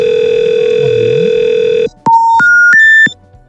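A telephone call rings through an Issabel PBX: a loud, steady tone holds for about two seconds, then a rising series of three or four distinct beeps plays in steps.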